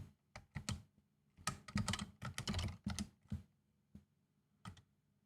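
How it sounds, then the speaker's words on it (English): Quiet bursts of computer keyboard typing come in uneven runs of rapid keystrokes with short pauses, followed by a few isolated taps. The keyboard is close but soft, and no one speaks. "I can type, I promise."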